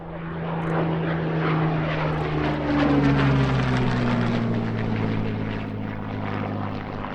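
A Hawker Hurricane warplane flies a display sequence at a Duxford airshow. Its propeller engine drones loud and steady throughout, with the pitch sliding gradually downward as the aircraft passes.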